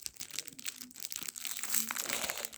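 A package being opened from the back, close, crinkly crumpling and tearing of packaging in short irregular bursts.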